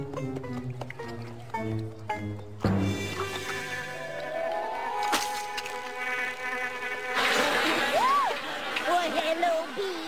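Bees buzzing in an animated cartoon, a close, droning hum that wavers in pitch across the scene, with voices talking over it.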